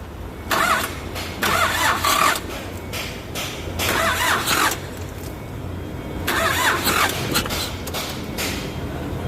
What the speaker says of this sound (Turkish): Şimdi üzerime su gelmeden marşa basacağım.